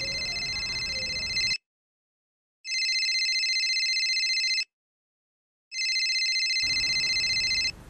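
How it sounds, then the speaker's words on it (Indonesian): A mobile phone rings in two long, loud electronic tone bursts separated by silent gaps, bright and close, with faint background noise before and after. "Ntar loh, kok telepon saya bunyi ya?"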